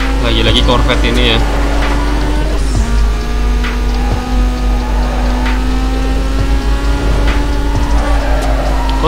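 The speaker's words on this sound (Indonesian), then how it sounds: "Kok suara knalpotnya si Corvette itu kedengeran ya?" A Corvette's exhaust drones and revs steadily in the racing game Need for Speed Most Wanted, a continuous engine tone with small pitch shifts and occasional clicks from the game.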